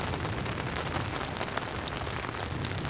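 Rain pattering steadily on a camping tent, a dense continuous hiss of drops close by, even and unbroken with no voices.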